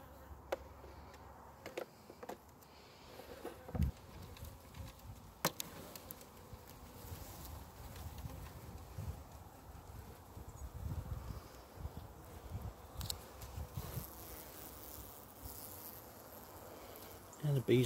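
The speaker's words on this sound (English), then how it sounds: "And the bees are feeding on the honey, which is really good." Low, steady buzzing of honeybees close by, a soft continuous drone with occasional faint rustles and bumps, during a cut-out from a semi-detached house roof space.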